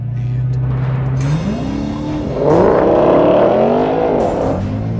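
Dodge Demon and Shelby Super Snake Widebody launching side by side in a drag race, loud close engine roar climbing through rapid rising gear sweeps with brief shift breaks, heard from inside a car.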